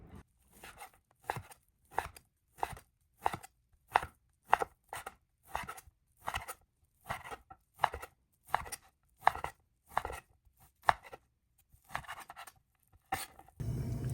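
Steady, rhythmic chopping of flank steak into small pieces on a cutting board, a long run of even knife strikes, fairly quiet and close, with no talking.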